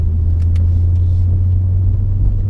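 Supercharged Mercedes M113K V8 car running the stock OEM supercharger belt and pulling from second gear. It gives a loud, steady, close engine drone with a heavy low hum throughout.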